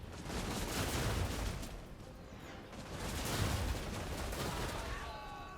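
Volleys of massed gunfire from ranged units in Total War: Warhammer 2, loud rolling crackle that swells and eases in two waves across a battlefield, with faint whistling shots near the end.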